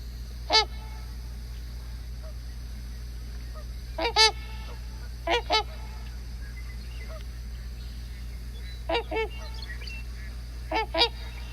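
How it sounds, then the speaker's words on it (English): A trumpeter swan calling outdoors in the wild, with loud, nasal, horn-like honks in short bursts, some single and some in quick pairs, separated by quiet gaps over a steady low background hum. "So now we are going to be listening to a trumpeter swan call."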